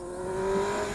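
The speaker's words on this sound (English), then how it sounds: "it's very difficult to not keep revving the guts out of that engine" A 2024 Kawasaki Ninja ZX6R engine climbs in a single rising rev, a sustained tonal whine that swells slightly louder toward the middle and holds, heard fairly close without talk.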